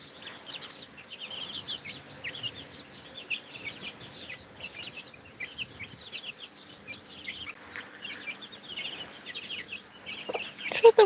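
A free-ranging hen clucking softly while dust-bathing and scratching in loose soil outdoors, quiet scattered clucks over faint rustling and insect hum, with a louder burst near the end.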